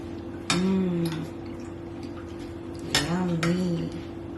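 A spoon stirs canned pandan jelly dessert in a bowl, producing two bursts of bright clinks and scrapes against the bowl separated by a quiet pause.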